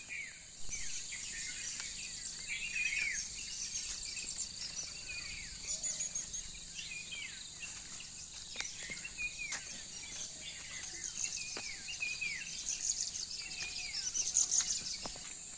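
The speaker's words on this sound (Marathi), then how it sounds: "पक्ष्यांचा किलबिलाटी तुम्हाला ऐकू येत असेल" Chirps and short bird calls scatter through a steady high insect-like buzz, fairly faint and outdoors, with no talking.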